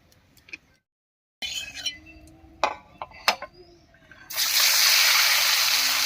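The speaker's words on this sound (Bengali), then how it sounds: "কড়াইতে দিয়ে দিচ্ছি সরষের তেল।" Mustard oil poured into a wok, a loud, broad hiss and rush at the end, preceded by a few scattered clicks and knocks and a short silence.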